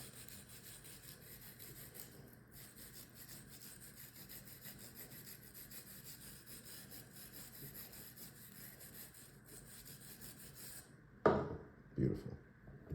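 A brush scrubs steadily inside a CZ 83 pistol during cleaning, giving continuous close, gritty rubbing strokes for most of the stretch before a few louder knocks and handling sounds near the end.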